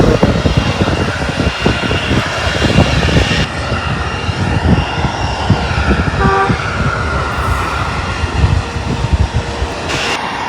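Loud, continuous roar of jet aircraft engines nearby at Delhi airport, a broad steady rumble with gusty wind noise and no talking.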